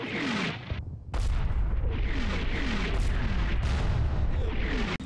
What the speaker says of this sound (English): mortars presumably aimed at him and his forward observers begin falling right outside their command post